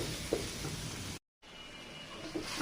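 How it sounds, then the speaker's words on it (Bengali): Spices with garlic, onion and green chilli frying in a pan for a Bangladeshi raw tomato and dried fish curry, giving a steady moderate sizzle with a brief break, no talking. "মশলাটা সুন্দর করে ভেজে নেব"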